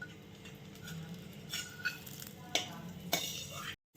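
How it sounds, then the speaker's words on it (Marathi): Vermicelli roasting in homemade ghee in a pan, a soft sizzle under scattered utensil scrapes and a few sharp clinks against the pan, ending abruptly. "आणि याच तुपात आपल्याला शेवाया भाजून घ्यायच्या आहे."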